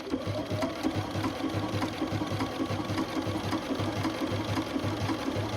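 A sewing machine stitches a shamrock applique, running in a steady fast mechanical whir with rapid rhythmic needle thumps throughout, close and continuous.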